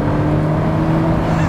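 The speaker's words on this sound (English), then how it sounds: "I love hearing the turbos in a Ferrari, it's amazing. I love that turbo sound, how cool." A turbocharged Ferrari F40 on the road, its engine droning steadily with a constant whirring turbo note, loud and close from inside the car.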